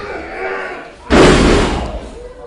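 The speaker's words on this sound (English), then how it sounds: "Big body slam." A wrestler's body slam onto the ring lands as one loud, heavy thud in the middle of the moment, with commentary talk before it and crowd noise lingering after.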